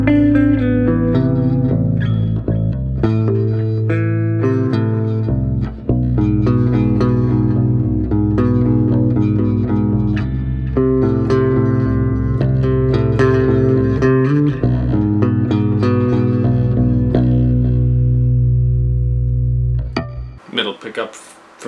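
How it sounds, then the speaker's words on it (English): Hollow body guitar through a clean, acoustic-like Axe FX II setting with no piezo, strummed chords and picked notes ringing with a light shimmer over about twenty seconds, fading out near the end. "right now we're on a setting which is kind of acoustic-y, piezo-y sounding, except this has no piezo and it is in a hollow body"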